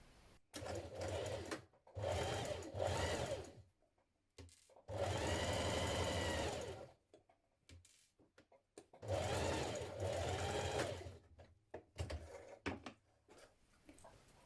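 Sewing machine stitching the seams of elasticated-waist trousers, running in three or four steady bursts of a few seconds each with short pauses between, close and clear with no talk.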